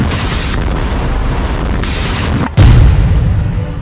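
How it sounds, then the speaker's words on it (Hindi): An Israeli air strike in Gaza sets off a sudden heavy boom that hits after a stretch of roaring rumble and stays loud and deep for the last second, with no voices. "वहीं पर इजरायल ने हवाई हमला कर डाला।"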